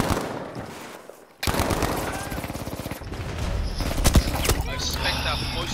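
A Type 100/MP34 submachine gun fires in sustained automatic bursts during hardcore team deathmatch on Iwo Jima in a shooter game, with rapid loud reports over game noise.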